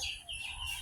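Chicken clucking and calling in a Bangladeshi village yard, a few short close calls repeating over about a second with faint bird chirps mixed in.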